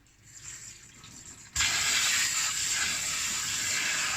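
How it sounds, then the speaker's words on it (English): Water from a tap suddenly gushes on and keeps pouring steadily, splashing over potatoes in a colander in a sink. "I'm going to now give it a rinse"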